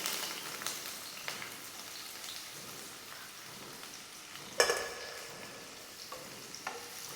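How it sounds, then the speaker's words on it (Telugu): Thinly sliced medium onions and whole spices such as cardamom fry in hot oil for a dhaba-style chicken curry, giving a steady close sizzle with occasional stirring clinks and one sharp spatter. "ఇవన్నీ కొంచెం వేగిన తర్వాత కొన్ని మీడియం సైజు ఉల్లిపాయలను సన్నగా కట్ చేసి వేసుకుంటున్నాను."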